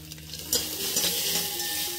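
Grated coconut, curry leaves and asafoetida sautéing in a bronze pot make a soft, steady sizzle with a light scrape and clink of a utensil partway through.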